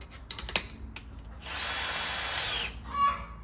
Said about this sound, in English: I have a Ryobi 18-volt cordless drill